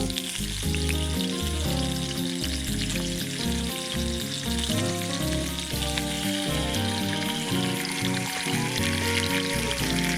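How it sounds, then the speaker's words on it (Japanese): Bacon sizzles steadily in a pan at a campfire camp, a continuous close crackling hiss that runs without pause, with tonal background music underneath and no talking. "ベーコンも焼きますか。"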